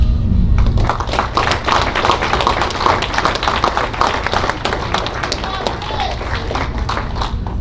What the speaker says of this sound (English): I just want to give them a round of applause for the hard work that they put in